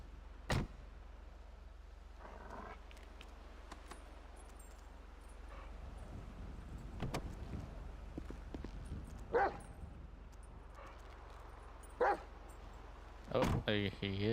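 A dog barks in short, sharp bursts at a traffic stop beside a sheriff's vehicle, several scattered barks at moderate distance over a low idling hum, with a few faint voices nearby.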